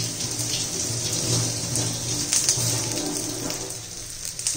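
Water from a kitchen tap runs steadily while coriander leaves are washed beneath it, producing a close, continuous splashing flow with slight changes as the leaves are moved under the stream.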